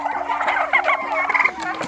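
A turkey gobbles loudly and close by in a continuous warbling burst, with a steady low hum in the background.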